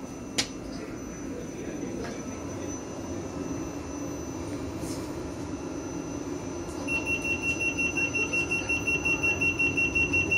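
Train door closing alarm on a South Western Railway train sounds as a rapid series of regular high beeps over the steady hum of the carriage, starting partway through.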